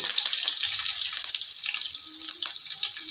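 Green chillies and curry leaves frying in hot oil in a home kitchen give a steady, bright sizzling hiss, close and continuous, with no voices.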